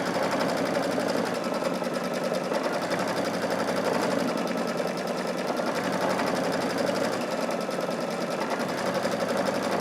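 A Brother Luminaire sewing machine steadily stitches out a quilting design, its needle running in a fast, even mechanical whir with a faint periodic change in pace, close and continuous without talk.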